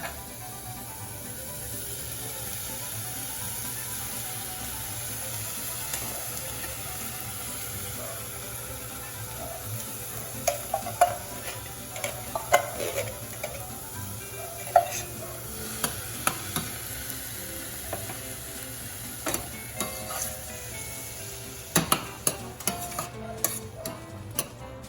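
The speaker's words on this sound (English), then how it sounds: "When the onions are ready, you then add your beans." Beans stirred into cooked onions in a pan for Mexican chilaquiles, a steady low sizzle with scattered scraping and clinking spoon strokes growing busier toward the end, no talk.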